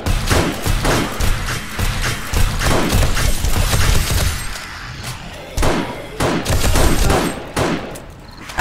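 Rapid bursts of gunfire pour down into a crowd of zombies in the survival game 7 Days to Die, loud close shots in clustered volleys with brief pauses between them.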